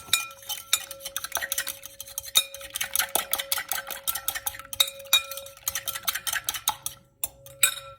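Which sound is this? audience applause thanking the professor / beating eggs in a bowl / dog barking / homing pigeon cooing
beating eggs in a bowl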